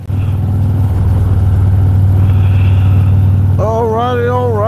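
A motorcycle with a handlebar cup holder fitted rides on the road, its engine giving a steady loud rumble, close up, with a voice speaking near the end.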